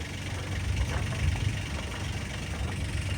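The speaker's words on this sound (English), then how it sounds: "Fired up the engine for the first time in a while and I'm getting no water flow." A sailboat's inboard engine idles steadily just after being started, with no cooling water flowing, giving a continuous low rumbling drone that stays near and fairly loud throughout with no talking.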